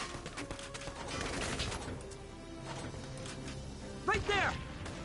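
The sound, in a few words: gunfire in video game Valkyria Chronicles 4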